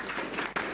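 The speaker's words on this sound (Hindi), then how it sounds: "एक बार जोरदार तालियों का हुजूम खड़ा होना" An audience at a Hindi poetry gathering (kavi sammelan) breaks into dense applause, a short, loud burst of clapping.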